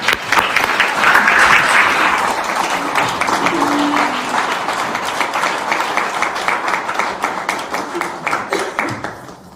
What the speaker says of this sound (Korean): 여러분, 아키바 토르 대사님을 따뜻한 박수로 환영해 주시기 바랍니다.